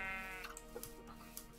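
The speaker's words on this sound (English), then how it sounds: "Hello, little sheep." A sheep in Minecraft bleats once, fairly close and clear, followed by a few faint clicking ticks.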